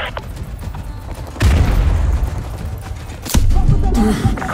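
Gunfire and explosions in the Call of Duty MW2 Remastered video game, with two sudden loud booming bursts followed by sustained rumbling combat noise; no speech.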